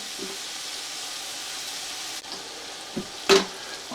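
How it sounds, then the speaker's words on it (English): Butter melting in a pot makes a steady, quiet sizzle and hiss with a few brief clicks and one sharp clatter near the end. "My butter is melting."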